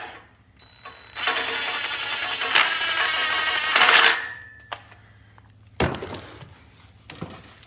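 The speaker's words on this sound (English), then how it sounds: "We'll go back and torque those, but we'll run them down with the impact." Impact wrench running down long tube header bolts on an LS engine exhaust install, a sustained loud buzzing whir of about three seconds followed by shorter bursts and metallic clicks.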